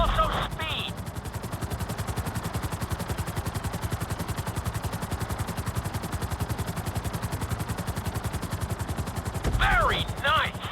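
A helicopter in GTA 5 flying a flight-school course, its rotor a dense, steady rapid chop that sounds loud and close the whole time. Brief electronic chirps come at the start and near the end.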